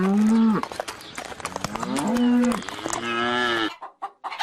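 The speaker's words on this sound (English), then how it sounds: "cow," Cow mooing in long, loud, drawn-out calls, three lowing bellows one after another, followed by brief clucking of chickens at the end.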